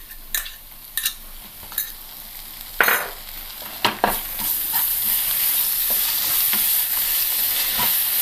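Ginger, garlic and green chilli paste sautés in a pan over low heat for mutton biryani. A steady sizzle runs throughout, broken by several sharp scrapes and clinks of a spoon stirring against the pan, with no talking.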